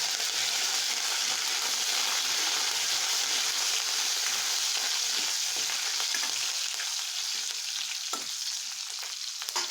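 Curry leaves frying in hot oil for a dal tempering, a loud, continuous crackling sizzle held close throughout, with a faint tap or two near the end.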